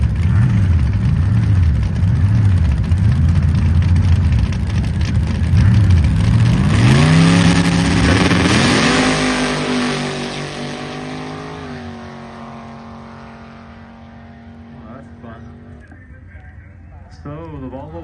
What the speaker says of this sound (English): The Volvo wagon will run first.